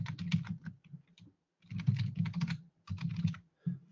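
Quick bursts of typing on a computer keyboard as an email address is entered, in three clustered runs of close, crisp key clicks with short pauses between.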